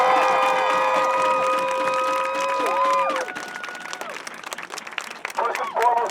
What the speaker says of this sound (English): All right, y'all, give yourselves a round of applause.